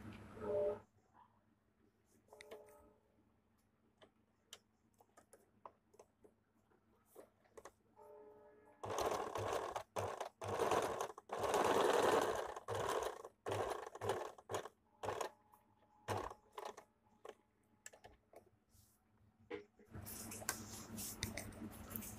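Sewing machine running in short, quiet bursts of rapid stitching while sewing a princess cut blouse, separated by pauses and small clicks of handling.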